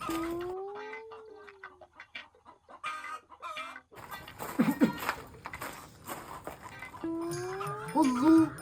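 Chickens cluck and squawk in bursts nearby, with a few softer chirps and background noise in between, no talking.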